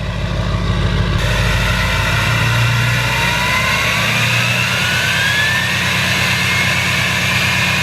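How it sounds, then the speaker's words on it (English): An LBZ Duramax diesel truck engine with a 3-inch downpipe holds a steady, loud high idle, its deep drone continuous and a thin whine gradually climbing in pitch. "So that's what it sounds like on the high idle."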